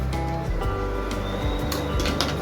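A kitchen chimney exhaust hood runs over a pan of fish curry masala: a steady close whirring drone with a faint whine and shifting tones underneath, no talking.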